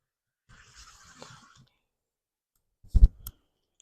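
Fabric being cut for a quilt being set on point: a soft, scratchy slicing rustle for about a second, then a brief louder clattering knock near the end, with quiet surroundings.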